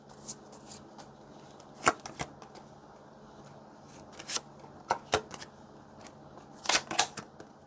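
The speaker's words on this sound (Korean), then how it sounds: "마지막으로 우리 관계는 결국 어떻게 흘러갈지 관계 흐름 카드 뽑아볼게요" Tarot cards are shuffled and drawn by hand in a quiet room, giving a few separate crisp riffling and snapping bursts with soft pauses between them, with no talk.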